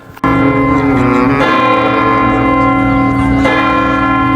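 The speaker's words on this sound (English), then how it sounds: "the bells are ringing at the Porto Cathedral, welcoming us to the city" Large bells of Porto Cathedral ring loudly and close, their sustained tones overlapping, with fresh strikes adding to the ringing.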